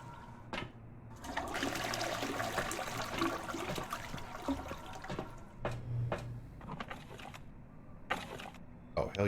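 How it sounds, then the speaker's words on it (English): Water runs steadily from a tap or flush inside the post-apocalyptic game Encased, with brief pauses and small splashes. Someone talks faintly in places. "sound of running water."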